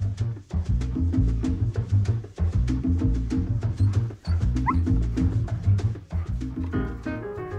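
Russian-European Laika dogs bark and yip in a loud, close chorus of repeated sharp calls with overlapping voices, continuing almost without pause.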